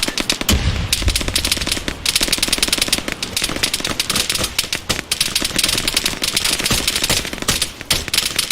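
Rapid automatic gunfire from the video game Arma 3 rattles nonstop in loud, dense bursts, close and relentless, with no talking heard over it.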